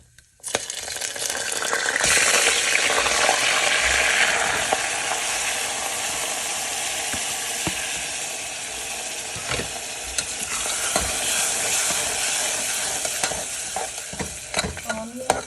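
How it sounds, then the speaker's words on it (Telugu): Onion paste frying in a pan while cooking goat paya bone soup, a steady close sizzle with occasional scraping stirs and light clinks near the end, no voices. "మనకి బ్రౌన్ కలర్ వచ్చేంత వరకు ఫ్రై చేసుకోవాలి."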